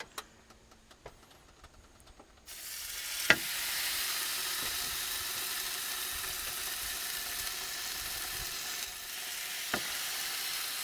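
Porterhouse steaks sizzle on a Ninja Woodfire grill: after a quiet start, a loud, steady frying hiss sets in, with a couple of sharp clicks or taps along the way.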